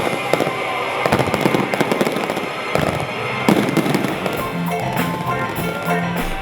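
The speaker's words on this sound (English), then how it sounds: "Staff and guests ended the night with a surprise Silver Jubilee fireworks" Silver Jubilee fireworks display at a night celebration, with dense crackling bursts and pops rattling on continuously, loud and close, steady throughout.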